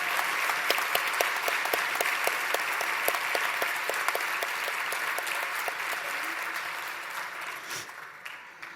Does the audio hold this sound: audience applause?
yes